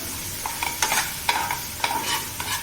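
An onion vegetable dish is stir-fried in a pan, with quick rhythmic scraping strokes of a spatula over a soft sizzle, close and fairly loud, with no speech.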